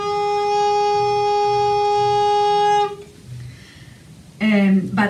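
A recorder holds a single sustained note played with a very low jaw and slow airstream, giving a broad, soft tone for nearly three seconds. After a short pause a voice begins speaking.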